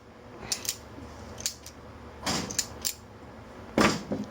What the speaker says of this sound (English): So when you deploy, you got a satisfying click.